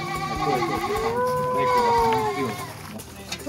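Goats bleat loudly and close by on a goat cheese farm after milking, one long wavering cry carrying through the middle, with people talking over the farm noise.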